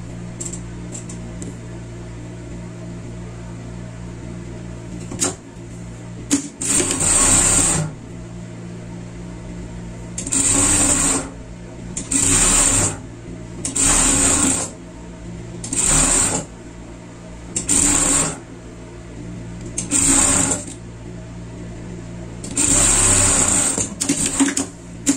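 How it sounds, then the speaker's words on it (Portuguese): Home sewing machine stitching fabric for a craft project, running in about eight separate short bursts of a few seconds each over a steady low background hum, with brief pauses between runs. "Costura aqui."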